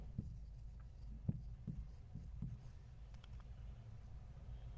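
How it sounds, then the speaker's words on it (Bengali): Pen strokes scratch across paper as a physics definition of point charge is written out by hand, a series of soft irregular scrapes and taps, close and quiet, with no one speaking. "আমি তোমাকে সহজ ভাষায় বিন্দু আধানের সংজ্ঞাটা এখানে লিখে দিচ্ছি"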